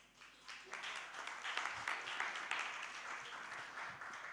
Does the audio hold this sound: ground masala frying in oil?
no